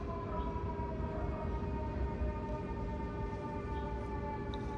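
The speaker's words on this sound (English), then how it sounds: "a fire truck siren." Fire truck siren wailing continuously and fairly loud, steady tones sustained throughout over a constant background rumble, no talking.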